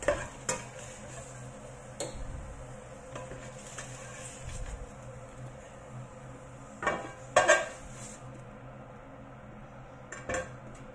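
Bitter gourd scrambled in a pan being scraped out onto a plate, with light clinks of utensil against pan and dish and scattered scraping strokes over a quiet kitchen background, a few sharper knocks standing out.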